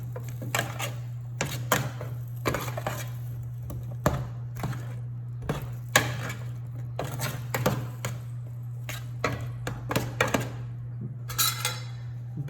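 Roasting vegetables being tossed and turned in a metal pan for a holiday turducken, giving repeated irregular clattering knocks and scrapes over a steady low hum, close by, with no talk.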